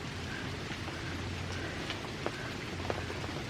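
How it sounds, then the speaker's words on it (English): Steady rain falling outdoors, a dense even patter on surfaces close by, with a few sharper drops and no talking. "I know it's not raining that bad or that cold"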